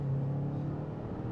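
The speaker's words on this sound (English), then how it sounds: "I do want to go ahead and test out sport mode, give it an acceleration test here" A 2026 Hyundai Palisade Hybrid in sport mode at full throttle: a steady, low engine drone heard from inside the cabin, holding at a constant pitch and loudness for a moment with no voices.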